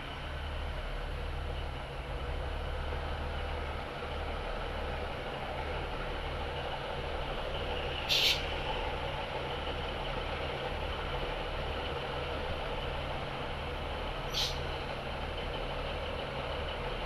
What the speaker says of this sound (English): Train's leaving and probably heading to Edinburgh.